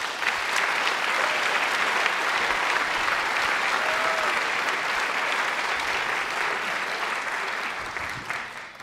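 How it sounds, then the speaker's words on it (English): A concert audience applauds students after a high school choral concert, a broad continuous wash of clapping that holds steady and then tapers off near the end. "we just want to give them a round of applause for their hard work"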